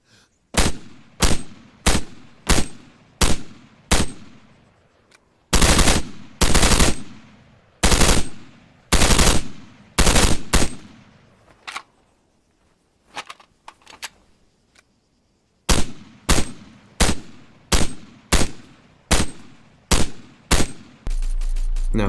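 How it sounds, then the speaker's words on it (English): An assault rifle fires at practice targets in the Arma 3 video game: loud, close bursts of rapid automatic shots come in repeated clusters, separated by short pauses and one longer gap, with no voices. "Just me shooting some targets."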